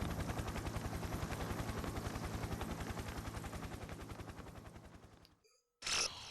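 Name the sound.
helicopter in the video game Persona 4 Ultimax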